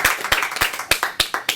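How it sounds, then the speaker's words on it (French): A small audience applauds an actress, individual claps standing out in a fairly quick, slightly uneven rhythm, close and distinct rather than a dense roar. "Je vous demande de l'applaudir."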